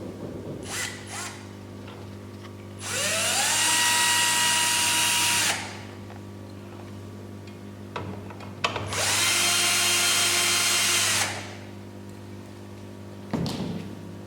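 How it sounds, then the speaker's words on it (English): A power screwdriver backs screws out of the main board of an SPF5000ES unit in two whirring bursts of about three seconds each, separated by clicks and handling noise, close and loud. "Mr. Pan, please unscrew the 2 pieces screws"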